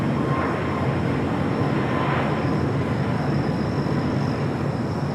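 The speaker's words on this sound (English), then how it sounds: "This is Southwest Airlines in the Florida 1 livery heading to the Valley of the Sun at Phoenix, Arizona. Still on the 737-700." A Southwest Airlines Boeing 737-700 jet airliner departing LAX, a broad steady engine roar with a faint high whine, heard from a distance as a continuous wash of noise.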